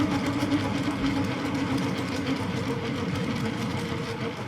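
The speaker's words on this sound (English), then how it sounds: "you can spin it. It'll spin quite a while on its own." A rotating bowling ball cup spins freely on its own, giving a steady, dense mechanical whir with a faint rattle that holds at an even level throughout.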